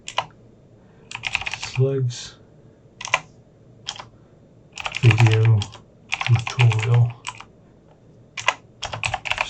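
Computer keyboard typed in bursts of rapid clicks separated by short pauses, close and clear, while someone speaks between and over the keystrokes.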